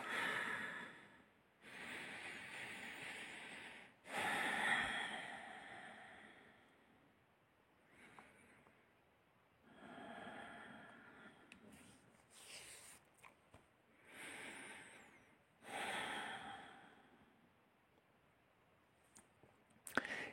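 Slow, deep meditative breathing during a guided spiritual meditation, with long whooshing inhales and exhales repeating at an unhurried pace, close and fairly quiet, alone with no talk.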